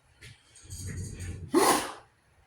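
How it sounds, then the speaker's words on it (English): A single sharp human sneeze, close and loud, preceded by a brief inhaling build-up in a quiet indoor room. "Had to sneeze there."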